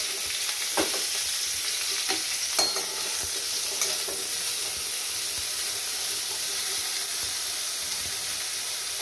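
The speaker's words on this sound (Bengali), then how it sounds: "ব্রোকলিগুলো ছেড়ে দিলাম।" Broccoli frying in oil in a pan alongside browned potatoes, a steady close sizzle and hiss with intermittent scraping stirs throughout.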